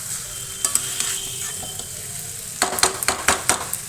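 An egg dish frying in a small wok, with a steady sizzle and a quick run of scraping, clinking stirs near the end, close up and without any talk.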